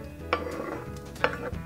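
Diced butternut squash stirred in a pan, giving two sharp clinks of utensil against the pan over a soft sizzle and scraping, close up with no talk.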